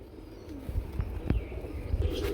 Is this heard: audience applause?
no